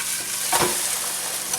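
Eggs with chile sizzling in a frying pan, a steady close hiss of frying with a brief louder crackle partway through as the food is flipped.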